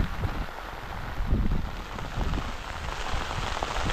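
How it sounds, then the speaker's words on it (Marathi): Steady patter of light monsoon rain in the Konkan region, with a soft wind-like hiss, continuous and fairly faint, no voices. "पाऊस आला आहे थोडासा हलकासा"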